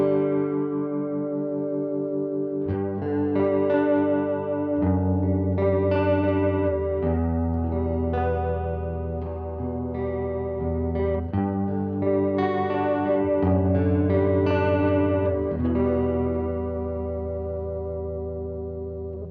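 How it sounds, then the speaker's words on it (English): Electric guitar run through an analog delay pedal on its vibrato setting plays a steady sequence of wavering, pitch-wobbling chords, loud and continuous throughout with no pauses. "And here's an example of the vibrato."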